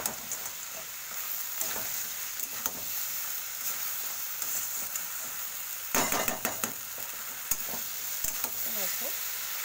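Fried lentil dumplings are stirred into a thick Malabar spinach curry sautéing in a pan: a soft, close sizzle with spoon scrapes and a brief clatter midway, no talk.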